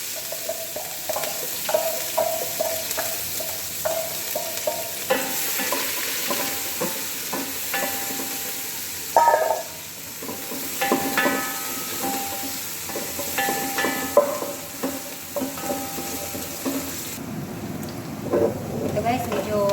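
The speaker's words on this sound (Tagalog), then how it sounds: "Gigisa ko na itong sibuyas, garlic, and ginger." Onion, garlic and ginger sizzle in hot oil in a pot, a steady frying hiss with occasional stirring scrapes, while a person talks over it.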